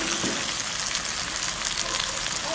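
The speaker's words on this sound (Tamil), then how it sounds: "இந்த சோஸ் எண்ணெய்க்குள்ள முருகட்டும் ஒரு 5 நிமிஷம் பிடிக்க விடுவோம்" Chili sauce frying in hot oil, a dense, loud, continuous sizzling hiss with fine crackles and no break throughout.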